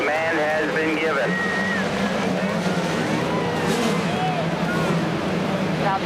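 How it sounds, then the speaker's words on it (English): IndyCar race car engines fire up at the St. Petersburg Grand Prix, a dense roar of multiple engines revving with rising and falling whines, continuous and loud, with crowd and announcer noise mixed in. "Drivers, start your engines!"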